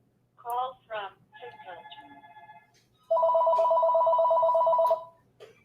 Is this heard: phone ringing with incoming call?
yes